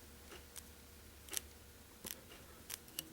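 Rubber fly-tying legs stretched by hand at a vise, giving a handful of faint, sharp little snaps spaced irregularly in a quiet room.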